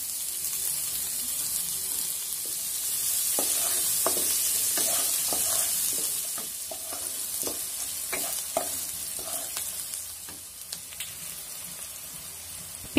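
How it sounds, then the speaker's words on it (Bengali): Chopped onions frying in oil with a bay leaf, stirred steadily, giving a continuous bright sizzle broken by frequent scraping and clinking knocks of the spoon against the pan, with no voices. "পেঁয়াজটা বেশ কিছুক্ষণ নেড়ে চেড়ে এবারে আমি 1 চা চামচ রসুন বাটা দিলাম।"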